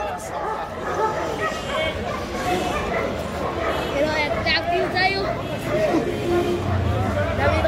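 Dogs bark and yip at a busy outdoor dog market, with repeated sharp barks and some whimpering over a steady crowd murmur and people talking nearby.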